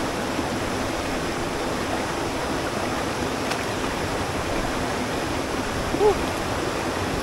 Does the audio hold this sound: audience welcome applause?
no